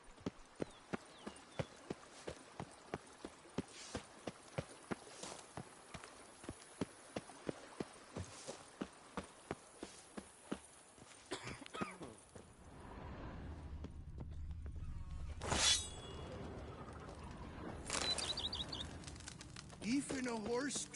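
Rapid, even clip-clop of horse hooves galloping in The Witcher 3 for about twelve seconds. The hooves then stop and give way to ambient game sound with birds cooing and a few soft thuds.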